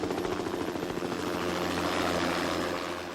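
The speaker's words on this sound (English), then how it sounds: "Medevac's here with Steve." A medevac helicopter arriving, its rotor thumping loud and steady throughout with a continuous engine whine, no voices over it.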